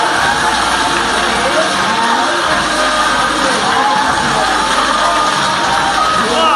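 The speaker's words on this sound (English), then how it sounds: "Wow, such a crowd." At the OPPO Find N launch event (INNO DAY 2021), a large audience cheers and whoops loudly in a continuous roar of crowd noise that fills the hall.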